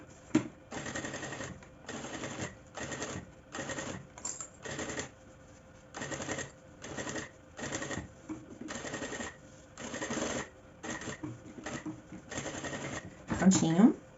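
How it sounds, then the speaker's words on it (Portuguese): Sewing machine running in repeated short bursts of rapid stitching, sewing a safety seam along the curves of a small baguette-style handbag with its lining, close and fairly loud, separated by brief pauses. "E passar uma costura aqui nas curvas que eu fiz."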